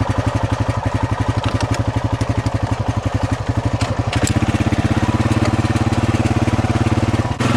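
A Honda Rancher 420 ATV engine thumps loud and close while riding, a fast, even pulsing that briefly dips and then settles into a steadier, heavier throb.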